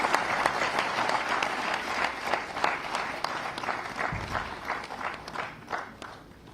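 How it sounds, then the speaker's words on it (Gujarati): An audience at a climate change program at PDEU in Gandhinagar bursts into sustained, dense applause to welcome the Chief Minister, a steady roar of many hands clapping at close range. "આવો જોરદાર તાળીઓ સાથે આમંત્રિત કરીએ આપના વક્તવ્યમાં"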